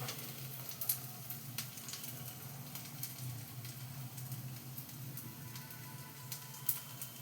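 Onion added to a dal paste frying in a pan sizzles softly and steadily, with faint crackles and occasional small clicks, quiet and close with no talking.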